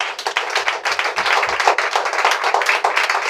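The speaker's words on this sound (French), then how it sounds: "Est-ce que tu peux acclamer Jésus?" A church congregation clapping to acclaim Jesus, brisk rhythmic handclaps sustained throughout, fairly close and lively, with faint voices mixed in.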